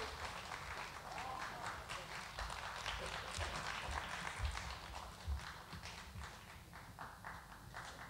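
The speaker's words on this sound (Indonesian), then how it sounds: "Tepuk tangan yang meriah untuk Ibu Nini Al-Karim" Audience at the Teater Kecil, Taman Ismail Marzuki, applauding at a charity arts night, a dense crackle of many hands clapping throughout, fading slightly toward the end, with some voices mixed in.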